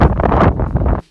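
Strong wind blasting across an outdoor horse jumping course, loud roaring gusts buffeting the microphone in close, heavy bursts before cutting off abruptly.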